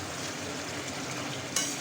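Chicken curry cooked with yogurt fries in oil, sizzling steadily as it is stirred, with a soft scrape of a utensil near the end, close and alone without talk.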